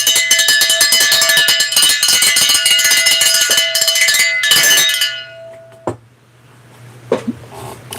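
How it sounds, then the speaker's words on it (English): A handheld bell rung rapidly and loudly for several seconds, a bright continuous jangling clatter that stops abruptly and is followed by a couple of soft knocks in a quiet room. "this is the bell we ring when we get 200 thumbs up"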